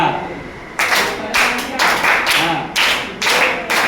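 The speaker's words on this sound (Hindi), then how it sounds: "स्पेशल ताली बजाओ 5 बार" Children in a classroom clap their hands together in five sharp, loud, roughly evenly spaced group claps after a brief spoken word.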